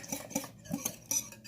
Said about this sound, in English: Whisk.